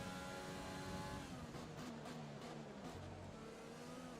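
Formula One cars in the F1 2020 video game, a Ferrari among them, with a continuous loud engine drone and shifting revving pitch as cars pass close by.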